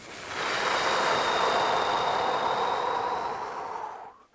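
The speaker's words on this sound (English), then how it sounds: "And then breathing out." A deep, slow exhale during a guided breathing exercise: one long, airy breath out that rises, holds steady for several seconds and then tapers off, close and fairly quiet, with no talking.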